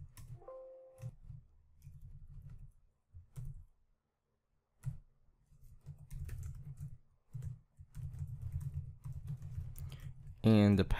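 Someone types a username and password on a computer keyboard, with quiet bursts of close key clicks separated by pauses and a louder clatter at the end; a voice speaks briefly near the start.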